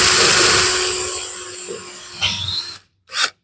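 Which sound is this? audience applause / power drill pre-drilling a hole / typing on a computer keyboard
power drill pre-drilling a hole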